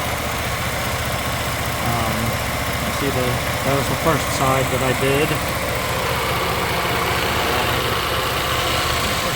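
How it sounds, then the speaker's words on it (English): A vehicle engine idles steadily right after a spark plug and ignition coil change, with a constant low rumble. Someone talks close by over the engine. "let me show you the engine's running"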